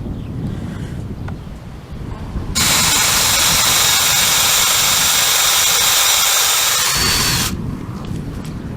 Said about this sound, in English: I think my drill bit is dull.